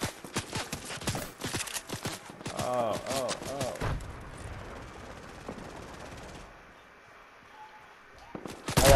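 Gunfire from sniping in a video game: a rapid string of sharp, loud cracks and thumps, then a quieter stretch and a final burst near the end.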